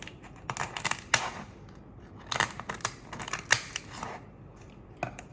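Kitchen shears snipping down the middle of a lobster tail shell, a series of sharp crunchy cuts in irregular clusters, close and fairly loud with no talking.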